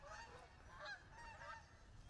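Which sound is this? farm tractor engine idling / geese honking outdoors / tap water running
geese honking outdoors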